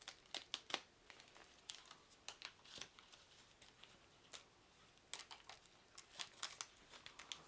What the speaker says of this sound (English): So let's open these up, try not to rip them too bad